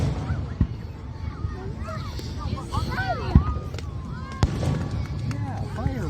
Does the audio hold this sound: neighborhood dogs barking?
no